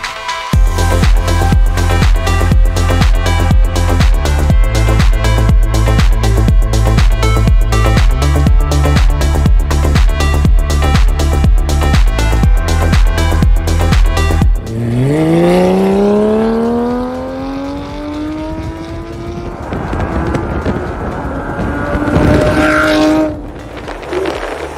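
A Porsche Boxster fitted with a new ORD exhaust revs in long rising and falling sweeps, loud and close, after a stretch of loud music that fills the first half.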